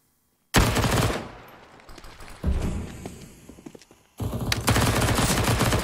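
AK rifle fire in CS:GO on Overpass during a pro match rattles in loud sustained automatic bursts, separated by a quieter stretch with scattered shots.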